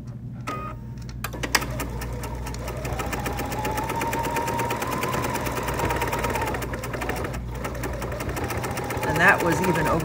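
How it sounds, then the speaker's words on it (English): A Bernina sewing machine top stitching a cosmetic project bag, running in a steady rapid mechanical chatter for most of the stretch with a faint hum beneath, fairly close and without pause. "now I just have to flip that over and top stitch it on this side."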